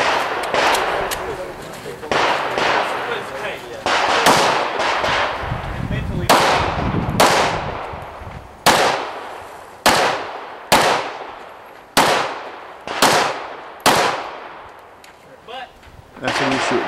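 Pistol shots crack at an IDPA match stage at Greenville Gun Club, rapid strings of fire at first, then a dozen single sharp reports spaced about a second apart, loud and close, with voices in the background.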